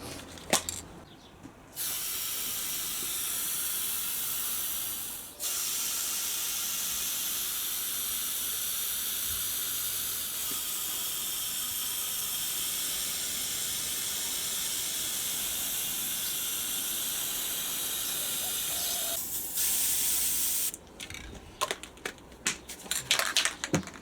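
Spray gun laying the fourth and final coat of paint on an old motorcycle front rim for a Virago 250 build: a continuous close hiss lasting about twenty seconds, with a short pause early on and clicks and handling noises after it stops.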